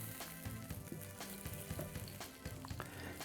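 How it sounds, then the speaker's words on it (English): Steady crackling sizzle of salmon and zucchini frying on a hot grill, with scattered pops and small scrapes, close and continuous, no voices. "You can see it's sizzling, so you know it's getting hot."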